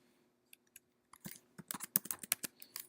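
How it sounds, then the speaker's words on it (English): A password being typed on a Mac computer keyboard: a few isolated taps, then a quick, close burst of crisp keystrokes in an uneven rhythm, with no talking. "I'm just going to type in WP pass."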